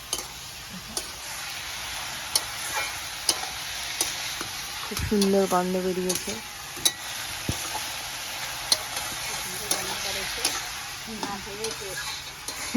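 Ash gourd frying in a pan gives a soft, continuous sizzle punctuated by regular ticking clicks of a spatula, while a person speaks briefly partway through.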